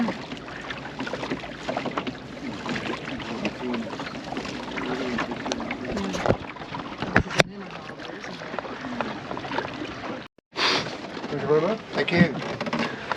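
A rowing boat ferry crossing harbour water near Weymouth, with steady splashing and oar noise close by, several brief gaps and bumps, and voices talking over it.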